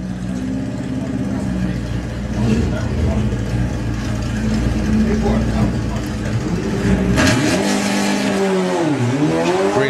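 A Mark 3 Golf and a Beetle rev their engines at a drag strip and launch hard, with loud engine roar and a rising, swooping pitch as they leave the line.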